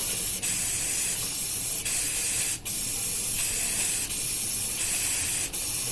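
Spray paint hisses steadily from a can onto a game controller being prepared for hydro dipping, a continuous close broadband spray broken by a few brief pauses where the nozzle is released.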